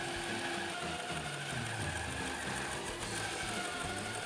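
A band saw slowly cutting plywood into two equal parts along a fence, a steady continuous whirring drone with busy grinding texture throughout, loud and close with no voices.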